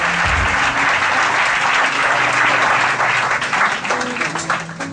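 A church congregation applauds together in a dense, steady wave of clapping that fills the space, loud and continuous throughout, with some low organ-like tones under it.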